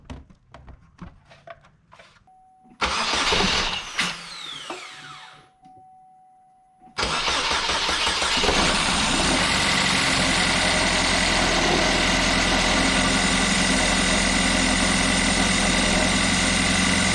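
A rebuilt Chevrolet 2.4 Ecotec engine cranks with clicks and whirring starter attempts, then catches and settles into a steady, loud, close idle that runs to the end.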